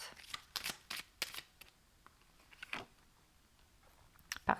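Playing cards are shuffled and handled in a quiet room, a few sharp riffling bursts separated by pauses, close and fairly faint with no talking.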